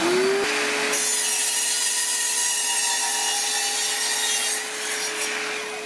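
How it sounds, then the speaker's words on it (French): A 2000 watt miter saw and a 1400 watt vacuum cleaner running together, a loud steady whine with a pitch that rises briefly at the start, then holds as a constant droning roar before easing slightly at the end. "Aspirateur de 1400 watts plus une scie à onglet 2000 watts,"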